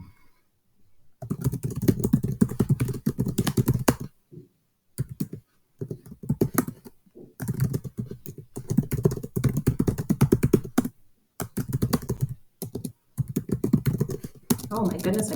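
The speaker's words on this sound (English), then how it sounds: "I can't type today" Rapid clatter of computer keyboard typing in bursts of several seconds, separated by short pauses, fairly close and clear with no talking.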